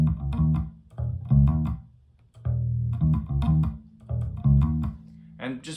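An electric bass guitar plays the bass line of a song: short, up-close groups of low notes with brief pauses between phrases, and no talk over it.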